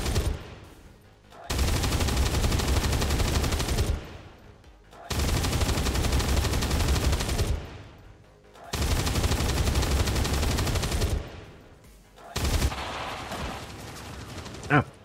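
A Gauss cannon fires in XCOM with the Highlander mod, letting out three long, loud, dense sustained bursts of a few seconds each, split by short quiet gaps, then a shorter fourth burst.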